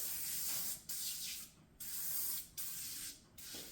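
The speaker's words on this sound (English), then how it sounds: "I just come in here to the kitchen sink and spray the stuff down" Four bursts of a spray bottle spraying cleaner on plastic parts at a kitchen sink, hissing close by, each a short pressurized spritz separated by brief pauses.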